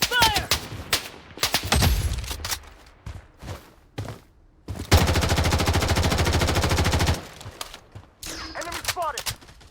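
Rapid automatic gunfire in the Blood Strike shooter game, dense sustained bursts and scattered single shots at close range, with game voice callouts in between.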